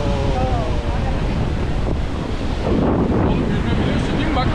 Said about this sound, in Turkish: Oğlum baya dalgalı.